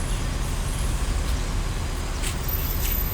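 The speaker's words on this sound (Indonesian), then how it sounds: "Ini dia masuk bus Palala anak Daro" A Palala bus arriving amid roadway traffic: a steady, fairly loud low engine rumble with brief hissing bursts like air brakes near the end.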